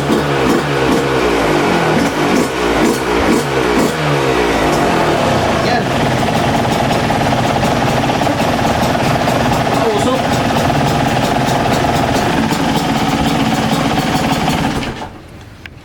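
A Yamaha YZ250X two-stroke dirt bike engine runs loud and close, a rapid rattling, pulsing exhaust that revs at the start and then settles into a noisy idle before cutting out abruptly near the end.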